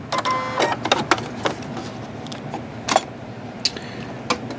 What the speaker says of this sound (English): And let's sew this.